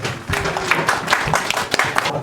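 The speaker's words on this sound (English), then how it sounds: "So, give a round of applause to all the speakers." An audience at a book launch event applauds the speakers with a scattered round of clapping, irregular and mid-level, fading slightly toward the end.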